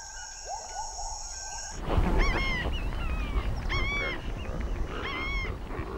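Nesting birds in the Zapata marshes of Cuba call repeatedly over a dense bed of insect and cricket chirring, with nasal honking calls rising clearly after an earlier steady whine.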